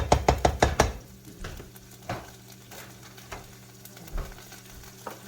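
Onions go into a hot pan to sauté, opening with a quick run of loud utensil knocks against the pan, then settling into a soft sizzle with occasional scrapes and taps as they are stirred, no talk.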